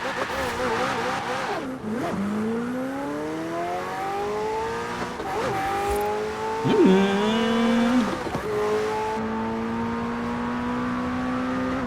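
A McLaren Senna engine in the Forza Horizon 4 racing game, driven with a steering wheel. It revs loudly and shifts through gears in rising and falling sweeps, with a brief tire squeal near the middle.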